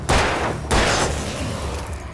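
Gunfire in the video game Alan Wake: two sharp, loud shots about half a second apart, each with a booming tail that decays over the following second.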